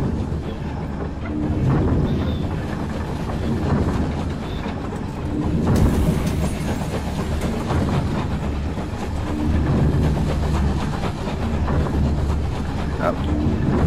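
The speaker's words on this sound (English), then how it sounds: "That's the front of the train." A train rolling along tracks in the game Night in the Woods, a loud sustained rumble with clattering wheel noise and a brief surge midway, continuing steadily throughout with a voice speaking over it.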